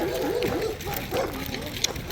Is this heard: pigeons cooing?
no